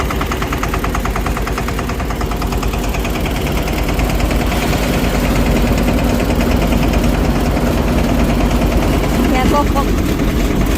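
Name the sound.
small tractor engine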